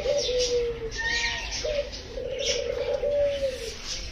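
A pet pigeon or dove coos nearby, giving several soft, drawn-out calls with brief gaps between them over faint background noise.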